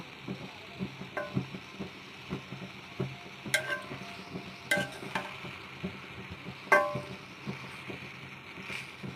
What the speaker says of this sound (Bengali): আজকে করলা ভাজি করব